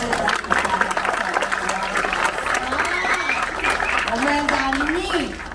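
Audience at a Balinese Calonarang comedic performance applauds steadily throughout, the clapping mixed with crowd noise, sung or spoken voices and a gliding tonal line over it.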